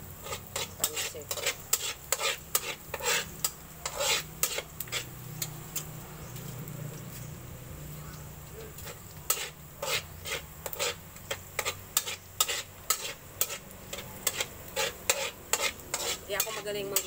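Pancit guisado noodles being stir-fried in a pan, with repeated rhythmic scraping and tapping of a utensil against the metal over a faint sizzle and a brief quieter pause midway.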